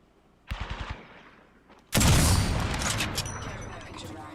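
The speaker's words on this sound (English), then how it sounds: "I am taking fire, friends." Video-game gunfire: a short rapid burst of automatic shots, a brief lull, then a loud sustained barrage of heavy fire and blasts from close by.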